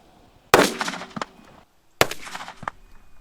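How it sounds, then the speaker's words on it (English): A Springfield 1911 pistol fires .45 ACP rounds into dirt outdoors. Two loud, sharp shots about one and a half seconds apart each leave a brief ringing tail, with no talking. "Next we have the Springfield 1911. This is shooting a 45 ACP, which is a bigger bullet, moving slower"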